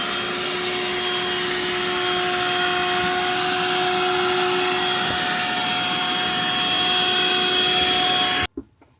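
A Black & Decker cordless vacuum cleaner runs close and loud with a steady high-pitched motor whine and airflow hiss for about eight seconds, then cuts off abruptly, leaving a few faint knocks.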